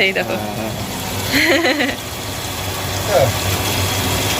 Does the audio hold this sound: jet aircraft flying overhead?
no